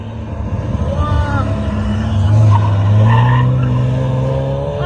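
Two sports cars race past at full speed on an Alpine mountain road, their engines surging loud and close with a rising-then-falling roar, while people talk and exclaim nearby.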